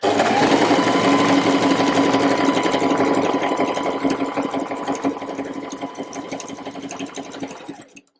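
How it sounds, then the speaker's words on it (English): A sewing machine stitching a seam on a reversible waistcoat, running in one continuous fast whirring burst close to the listener, gradually easing off and stopping at the end. "I'm going to turn it to there, do a stitch, and then turn it the rest of the way and carry on with that seam."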